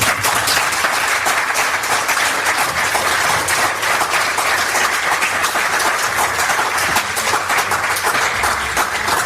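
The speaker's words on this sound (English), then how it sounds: "Keep applauding." Sustained, dense audience applause fills a London conference hall after a science talk, steady and loud throughout with no pauses or speech.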